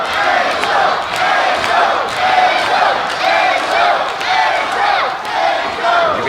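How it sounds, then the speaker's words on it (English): Capacity crowd at a Northeast Wrestling show in Waterbury, Connecticut, roaring and chanting in rhythmic surges about every half second, loud and sustained throughout. "Hear the crowd here in Waterbury, Connecticut at capacity for Over the Top."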